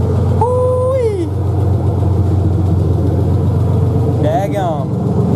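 A 1995 Ford Ranger with a 4.0 engine and new headers idles with a steady, even low rumble throughout. Brief rising and falling vocal exclamations ride over the engine.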